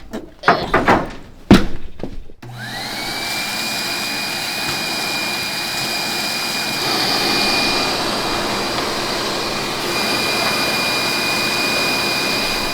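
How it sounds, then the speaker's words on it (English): Shop vacuum run inside a stripped Bel Air car to suck debris off the floor: a few loud thunks, then the motor whines up and holds a steady, loud roaring hiss. "let's pull out the vacuum and get all this crap up."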